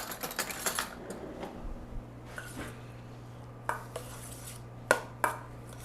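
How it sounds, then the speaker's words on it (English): Olive oil and Dijon mustard dressing being stirred in a small bowl: scattered light clinks and scrapes of a utensil against the bowl, quiet and close, with several sharper taps near the end and no talking. "so you're just stirring all this together now?"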